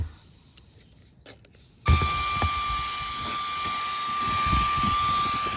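After a quiet moment, a drill starts abruptly and runs steadily with a loud, high whine and grinding hiss that continues to the end, while fitting a MaxxAir fan to a Promaster van.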